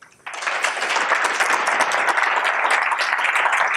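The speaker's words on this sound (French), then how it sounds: "on peut les applaudir" Morning marketing breakfast audience breaks into applause after a brief quiet, dense clapping that stays loud and steady to the end.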